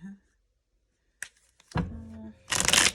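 Tarot cards are riffled and shuffled in quick bursts, with a short soft shuffle, some clacking handling, and a loud final riffle, close up.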